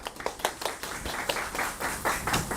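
A small audience at a Loughborough University admissions information session claps to welcome a graduate speaker, a brief, moderately loud patter of hand claps with uneven rhythm.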